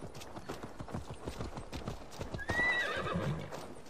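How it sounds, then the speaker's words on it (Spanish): A horse gallops in the video game Assassin's Creed Valhalla, a fast, even run of hoofbeats, then a loud neigh near the end. "Y míralo, otro maldito caballo que viene."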